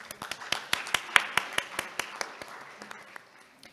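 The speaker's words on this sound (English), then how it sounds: "Please join me in welcoming him with a big round of applause." Scattered applause welcoming a speaker at a science and policy forum, individual claps spaced out and distinct, starting fairly strong and thinning as it fades.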